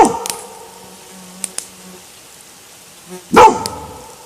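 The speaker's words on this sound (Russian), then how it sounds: "А собачка территорию охраняет. В разные стороны гавкает." A dog guarding a riverside fishing camp barks a few times: one loud bark at the start, two short sharp barks in the middle, then a louder close burst near the end over quiet surroundings.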